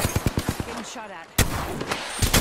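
Rapid automatic gunfire in the battle-royale shooter Apex Legends, a burst of closely spaced loud shots, then a pause with faint game sounds, then more heavy firing and impacts close by.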